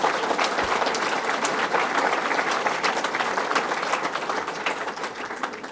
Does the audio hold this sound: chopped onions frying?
no